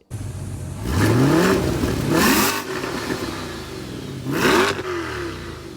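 A powerful 6.2-liter V8 sports car engine of 490 horsepower revs hard several times, each burst rising in pitch and falling back to a rumbling idle between blips.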